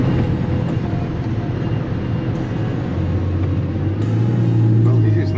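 A 2022 Bugatti Chiron Super Sport drives along, its loud, steady engine and road drone filling the cabin, with the tone rising and swelling toward the end.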